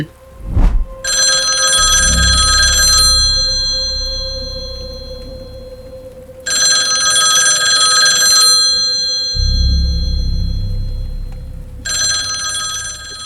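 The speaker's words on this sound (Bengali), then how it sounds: "তোমার ফোন বঙ্কিমদা অনেক দিন ধরে বেজেই চলেছে" A cartoon telephone rings in repeated bright electronic bursts, three long rings separated by pauses over a low rumbling background, with no voices.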